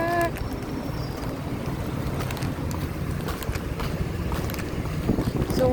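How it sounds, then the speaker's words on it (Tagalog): Steady wind blows and buffets outdoors, a continuous rushing roar with occasional faint voices in the background. "Mahangin sa labas."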